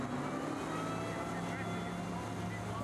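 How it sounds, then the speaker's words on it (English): At a wakeboard competition, a tow boat's engine drones steadily and fairly far off, a continuous broad roar that holds its level throughout. "I hear that engine kicking into a speed that he's comfortable with."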